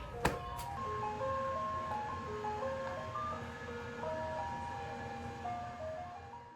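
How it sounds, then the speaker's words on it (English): An ice cream truck's jingle plays a stepping melody of bright tones over a low background rumble, with a sharp knock near the start. "you might hear an ice cream truck in the back"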